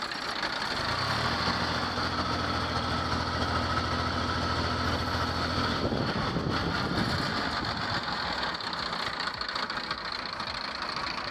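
A New Holland 3032 tractor, a 2010 model in good condition, idles steadily with a low, even diesel rumble that runs close and unbroken throughout, with no voices over it.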